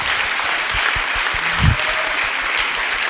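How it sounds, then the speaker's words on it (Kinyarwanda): A church congregation claps together in a service, a loud, sustained crackle of many hands with a few sharper, heavier claps standing out near the middle. "dukomere imana amashyi"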